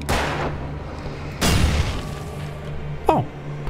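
Gunfire in the video game Alan Wake, two sharp booming shots about 1.4 seconds apart with decaying tails, followed by a short whooshing effect, no talk.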